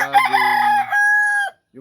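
A six-month-old rooster crows loudly and close, one long strained call that holds steady before breaking off, then a brief start of another.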